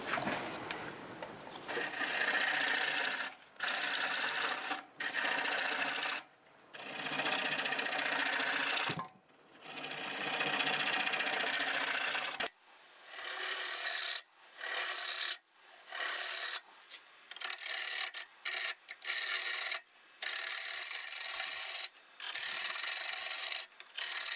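A hand tool cuts into wood spinning on a lathe, scraping and rasping in repeated bursts separated by short pauses, close and fairly loud with the motor humming underneath, and no one speaking.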